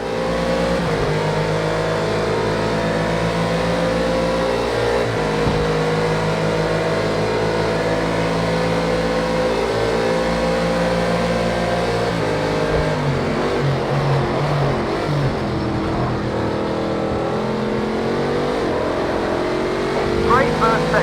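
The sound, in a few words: car engine on track in racing video game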